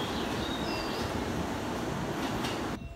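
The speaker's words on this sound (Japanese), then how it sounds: "電車が発車していきましたね。" The last train to Ito pulls out of Atami station late at night, a steady rumble of rolling wheels and rail noise with faint squeals, ending abruptly.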